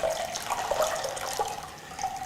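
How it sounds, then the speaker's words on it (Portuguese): Melissa herbal infusion is poured through a sieve into another container, a steady close trickle of liquid with no talking. "vamos então verter essa solução aqui"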